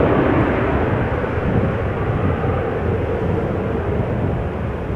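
A LOT Polish Airlines Embraer 195 jet bound for Warsaw at Amsterdam Schiphol, a loud steady rumbling engine roar that eases slightly toward the end, heard alone.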